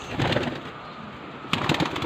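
Pigeons cooing and murmuring close by as they come out of their coop, with a soft flutter of wings and a brief rustling burst midway.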